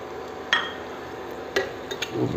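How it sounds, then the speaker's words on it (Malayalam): Onions, green chillies and curry leaves sauté gently over low heat in a pan for a Kerala-style beef curry, giving a steady soft sizzle broken by a few sharp clinks of a spoon against the pan, with no voices. "ഈ ചെറിയ ചൂടിലിട്ട് നന്നായിട്ട് ഈ ഉള്ളിയും ഇതെല്ലാം വണങ്ങുമ്പോൾ തന്നെ പച്ചമുളകും കറിവേപ്പിലയും കൂടി ഇട്ട് കൊടുക്കുക"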